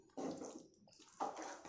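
Two short pours of water into mashed boiled potato masala for masala dosa, soft splashing bursts separated by a brief pause, faint and close.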